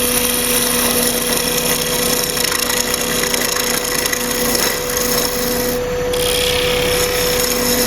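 A woodturning tool cuts continuously into a walnut ring holder spinning on a lathe, giving a loud, steady scraping rasp with a constant motor whine underneath for the whole stretch.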